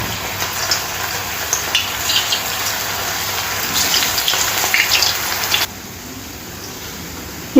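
Veg manchurian balls dropped one at a time into hot oil for deep frying. A dense, steady, close sizzle runs through most of the clip and then abruptly drops to a quieter bubbling, with no talking.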